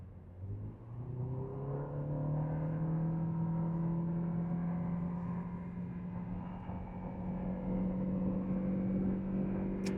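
A Toyota Corolla Cross hybrid floored on the freeway, its engine droning in a steady, rising hum that climbs slowly in pitch and holds loud and continuous throughout.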